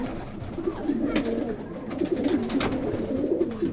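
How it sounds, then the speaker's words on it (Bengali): A pigeon coos repeatedly in soft, rounded phrases, close by, during a showing of a male foreign-line pigeon offered for sale. "তো অনেক ভালো একটা কবুতর।"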